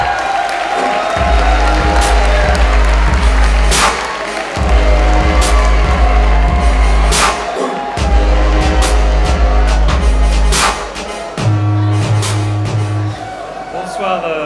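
Sustained audience applause greets the director of the IIM at a graduation ceremony, loud and continuous clapping with scattered cheers filling the hall, briefly dipping before swelling again, with a voice on the PA under the crowd.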